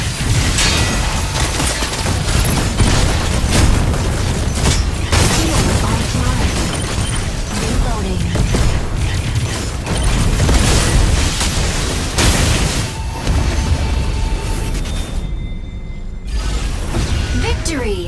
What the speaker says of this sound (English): About to lay down the barrage!